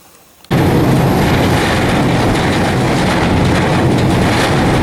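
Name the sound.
gondola freight train moving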